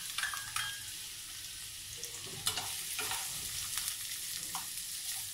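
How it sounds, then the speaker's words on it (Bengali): Onions frying in hot oil with a spoonful of ghee, a steady close crackling sizzle with brief stirring scrapes and small pops throughout. "তেলটা গরম হয়ে গেছে, এবার আমি পেঁয়াজগুলো প্রথমে দেব।"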